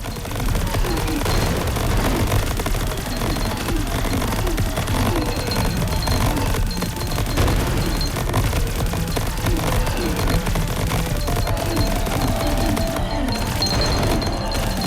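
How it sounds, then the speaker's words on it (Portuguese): Robots open fire in the video game Greedland, producing dense, continuous rapid gunfire and impact bursts that stay loud and constant over a busy game soundtrack. "agora tem dois esse robozinho atirando"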